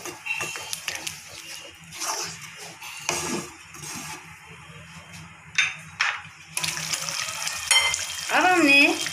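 Chole with garam masala and cumin powder cooking in a pan, with a soft sizzle and intermittent scraping and clattering stirring strokes, moderately close.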